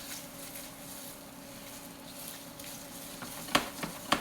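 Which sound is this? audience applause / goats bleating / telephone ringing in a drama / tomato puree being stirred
tomato puree being stirred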